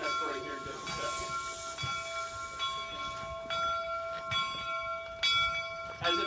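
Steam train pulling in at the Golden Spike site at Promontory, Utah, its bell clanging in a slow, regular ring over a soft hiss and rumble, moderately distant and fairly quiet.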